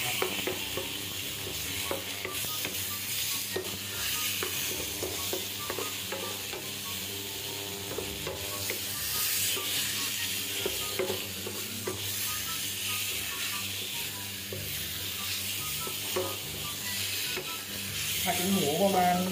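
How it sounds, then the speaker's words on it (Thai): Pork stir-fried in a pan for pork with bamboo shoots, a steady close sizzle with continuous scraping and stirring clatter throughout, under a faint music bed. "ผมก็จะลงหมูเลยนะครับ เดี๋ยวผมก็ต้องผัดไปเรื่อยๆนะครับ"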